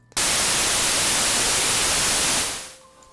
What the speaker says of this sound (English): As you can hear, we have white noise being generated all the time, and it will not stop.